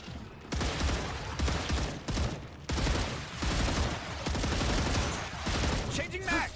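Sustained automatic gunfire against mobs in a shooter video game, with rapid dense bursts broken by brief pauses, loud and close, and a voice talking over it.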